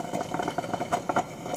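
Water heating inside a coffee maker gives off a soft, irregular rattling and bubbling, with quick small pulses repeating close by at a low level.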